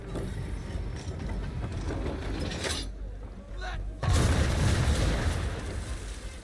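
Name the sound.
ship's guns firing in Assassin's Creed III video game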